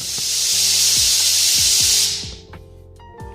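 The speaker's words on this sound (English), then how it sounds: "Air compressor." A workshop air compressor gives a loud, steady hiss that lasts about two seconds, then cuts off, leaving low hum and a few light clanks.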